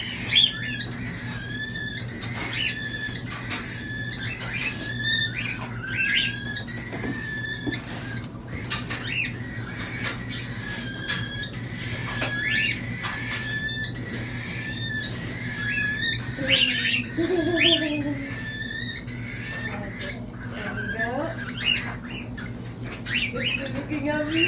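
Baby cockatiels give repeated high-pitched squawking food-begging calls in a dense, continuous chorus at close range, over a steady low hum.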